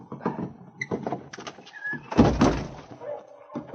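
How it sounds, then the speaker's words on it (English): A barred wooden cabin door is unbarred and pushed open in a 1950 Yukon radio drama, with close wooden clunks, scraping and a heavy thump as the door swings free. "I'll reach through and unbar the door from the outside."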